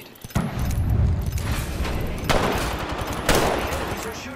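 Enemy gunfire in Apex Legends, a few sharp shot-like bursts over a dense rumbling game mix, with metallic rattles between them and a voice briefly present.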